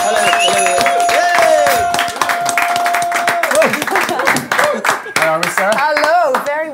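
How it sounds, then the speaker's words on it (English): Audience clapping at a Christmas special event, loud and close at first, then thinning while voices and music-like tones carry on over it. "So can we have a huge round of applause?"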